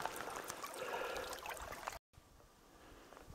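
Stream water flowing toward the Bombylivka river, a faint, steady trickle and gurgle heard outdoors. The sound cuts out briefly and then comes back quieter.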